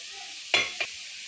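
A spoon scrapes and stirs through a thick haleem mixture with yogurt in a pan, two short close strokes over a faint background sizzle.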